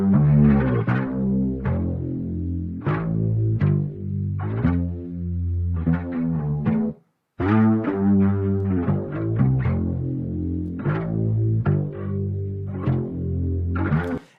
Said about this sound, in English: Lots of chorus, lots of distortion.